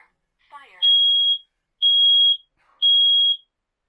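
Kidde smoke and carbon monoxide alarm sounding during a button test: three loud, piercing, evenly spaced high-pitched beeps, each about half a second long, close by after a brief faint rustle.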